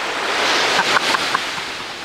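Sea waves roll with a broad, constant roar and a few faint splashes in the middle, loud and open like surf heard from nearby.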